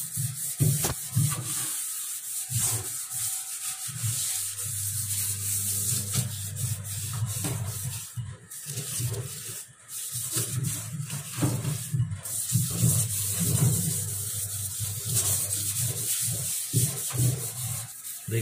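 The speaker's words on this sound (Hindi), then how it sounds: "तेजाब के दाग लग गए हैं, उसको भी आप स्क्रब से रगड़ के छुटा सकते हैं।" A scrubber rubs hard over a stained steel kitchen sink, a harsh abrasive scraping in rapid back-and-forth strokes that continue nearly throughout with brief pauses, loud and close, no talking.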